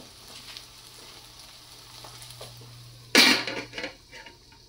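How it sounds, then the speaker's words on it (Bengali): A dried shutki fish is flipped in a pan: a faint low simmer gives way to a sudden loud hiss and clatter, then a few softer scrapes follow. "এখন হচ্ছে আমি শুটকিটা আরেক সাইড করে দেব, যাতে দুই সাইড থেকে ভালো করে সিদ্ধ হয়"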